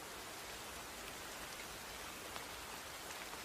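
Rain falls on leaves in a soft, dense, even patter, with countless tiny drops blending into a constant hiss, close around and unbroken by any voice.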